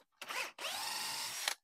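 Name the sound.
drill bit drilling at high speed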